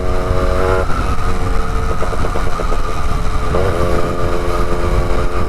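A Yamaha RX135 two-stroke motorcycle rides on a highway, its engine droning loud and close with shifting revs and harmonic whine, heavy wind rush underneath and no talk.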